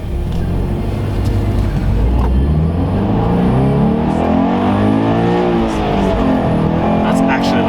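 Toyota 86 GTS fitted with an X-Force catback exhaust and its intake plugged, revving with a steady, loud drone and rising and falling engine tones throughout, up close.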